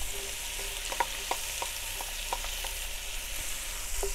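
Mushrooms and onions braising in a Dutch oven for one-pot Swedish meatballs: a soft, steady sizzle with a few light clinks of a utensil against the cast iron, close and without talk.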